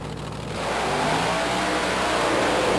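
A mud racing truck at the 1990 NMRO Mud Racing Nationals in Panama City, Florida roars into a hard acceleration, its engine noise swelling quickly and holding a loud, harsh, rising drone.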